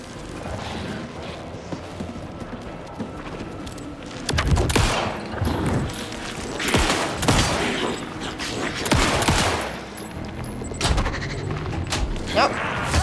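Gunfire from the Alan Wake 2 video game, a series of loud sharp shots in irregular bursts over a background of game ambience and mechanical clatter.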